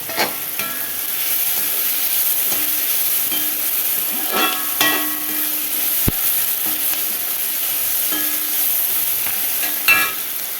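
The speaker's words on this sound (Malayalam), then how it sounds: "ഈ മസാലപ്പൊടി ഈ സവാളയും കൂടി നന്നായിട്ടൊന്ന് മൂട്ട് വരട്ടെ" Sliced onions and meat masala powder frying in a pan give a steady, loud, close sizzle with occasional light stirring clinks, without talk.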